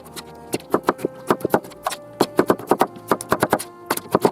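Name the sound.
Nutri Chopper chopping beef tomatoes into cubes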